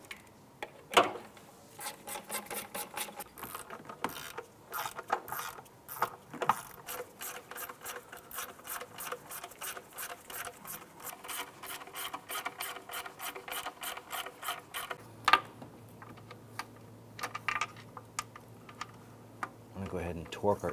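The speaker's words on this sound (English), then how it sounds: "I'm gonna go ahead and snug down those intake bolts." A ratchet snugs down intake bolts on a 2006-2018 Jeep Wrangler JK during an oil filter housing and cooler replacement, giving a long, steady run of rapid, close pawl clicks.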